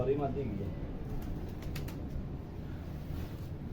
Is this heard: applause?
no